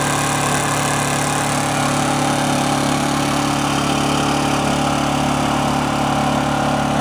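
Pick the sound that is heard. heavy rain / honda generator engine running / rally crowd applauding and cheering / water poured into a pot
honda generator engine running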